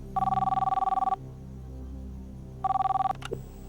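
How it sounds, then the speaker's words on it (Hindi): A telephone rings with a classic trilling bell, one long ring, a pause, then a second ring cut short by a click of pickup. "भारती देशपांडे, बुल्दाना, इनको फोन लगाया जाए।"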